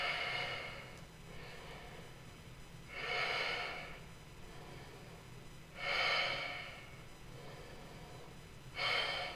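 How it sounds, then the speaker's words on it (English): Slow, deep breaths during a yoga bridge pose, each long airy inhale or exhale swelling and fading about every three seconds, close and fairly soft with quiet pauses between and no talking. "Breathing so deep the belly lowers and lifts in its cavity."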